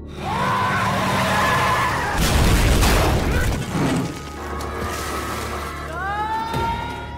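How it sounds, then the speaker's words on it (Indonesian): A bus with failed brakes skids and slams into a bridge barrier, a loud, drawn-out screech with a heavy rumbling crash, then squealing tyre-like whines near the end. "ia pun merusak rem bis yang dinaiki oleh Khushi dan teman sekolahnya hingga terjadi blong dan mengenai pembatas jembatan"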